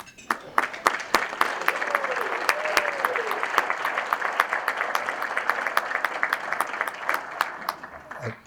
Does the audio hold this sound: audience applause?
yes